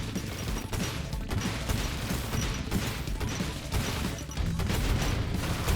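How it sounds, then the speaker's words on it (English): Dense, continuous explosions and gunfire-like blasts from a cyber horde survivor roguelike game, a steady loud barrage of overlapping booms and crashes with no pauses. "But there's now a lot of explosions going"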